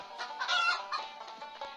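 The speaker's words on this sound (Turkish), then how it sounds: "Aa, gel buraya tavuk." Cartoon chicken clucking in the Stickman Party Android game, a short burst of bright, close clucks with no talk over it.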